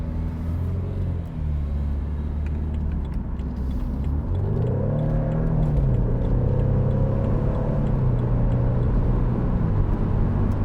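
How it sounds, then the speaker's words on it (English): A 2014 BMW Z4 sDrive28i M Sport roadster with its 2.0-litre engine drives with the roof down, giving a steady low engine rumble that rises in pitch as it accelerates midway, continuous and close. "The sound of that engine is just phenomenal."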